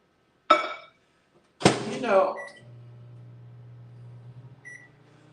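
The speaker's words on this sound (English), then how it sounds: "And then that's going into the microwave for a couple of seconds." A microwave oven warming food for a few seconds: a sharp door clunk and a clatter as the door shuts, then a steady low hum while it runs, close by, with a faint beep near the end.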